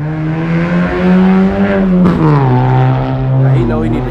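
A small car's engine revs loudly outside, a droning tone that rises and falls with a sharp surge midway, heard close and steady throughout.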